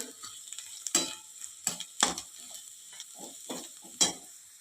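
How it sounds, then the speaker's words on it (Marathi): Spices sautéed in oil in a pan until the oil separates, heard as a quiet low sizzle broken by sharp, distinct spatula scrapes and taps at irregular intervals. "आता हे मसाले तेल सुटेपर्यंत चांगले परतून घेऊया"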